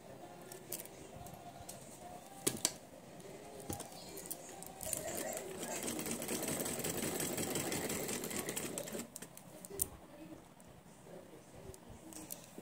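A sewing machine stitches fabric in a round shape for a rose tassel, a steady mid-loud whir running through the middle stretch with lighter handling clicks and rustles before and after.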